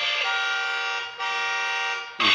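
Horn of a small 6-volt electric toy motorcycle, a Machuka model 969-17, sounds as a loud, bright electronic tone held for about a second, then again for nearly a second more, with a short burst at the end.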